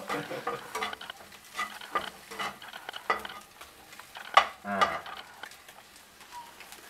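Shrimp added to a hot pan for Thai shrimp fried rice, frying with a light sizzle while a utensil stirs and scrapes them in irregular bursts, one louder clatter near the middle, no talk.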